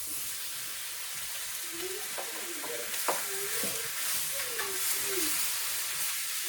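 Food frying in a skillet gives a steady, bright sizzle throughout, with a few soft scrapes and faint tonal sounds drifting in the background.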